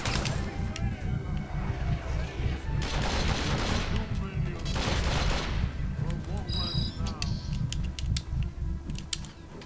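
Rapid gunfire and machine-gun bursts in the PC action game Mercenaries 2: World in Flames, loud and continuous with dense volleys and clattering mechanical noises throughout.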